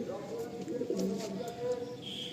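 Pigeon chicks of the Andhra breed are handled at a loft, giving soft low cooing and fluttering sounds under faint background noise.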